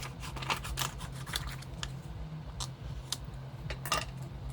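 Scissors snip a paper card at a crafting desk, giving a series of quick, close, fairly quiet crisp cuts in an irregular rhythm with no talking.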